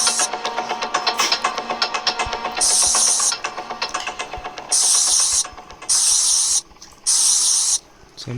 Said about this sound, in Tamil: கிராணி ஒரு வாட்டி பெப்பர் ஸ்ப்ரே யூஸ் பண்ணிட்டு போயிடலாம்.